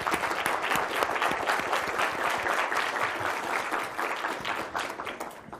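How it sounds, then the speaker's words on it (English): An audience at a Harvard Law School lecture claps loudly and continuously, a dense crowd applause that fades slightly at the end. "So if you guys give Professor Glendon a round of applause."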